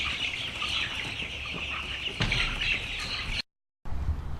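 Meat chickens cluck and squawk as a flock while they are moved in a barn, steady nearby clucking with a brief break near the end.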